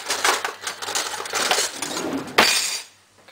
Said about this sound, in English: I'm going to use spoons to mix this.